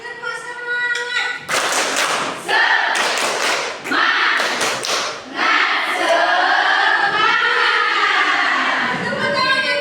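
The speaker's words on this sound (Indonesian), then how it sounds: "Oke, tepuk semangat." A class claps out a rhythmic spirit clap in bursts of sharp, patterned hand claps and thumps, broken by gaps, with voices chanting and calling along in between.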